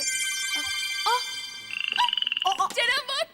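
Frogs croaking in a rapid, raspy pulsing chorus that swells partway through, set among other high tonal creature sounds and music-like tones, with no speech.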